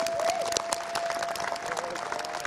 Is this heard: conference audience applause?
yes